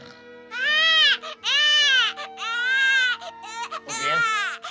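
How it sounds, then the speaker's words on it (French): A cartoon baby Smurf cries in a French animated episode, several loud wailing bursts in a row with a steady tone running beneath them, close and clear. "Bien, ne pleure pas, bébé Schtroumpf."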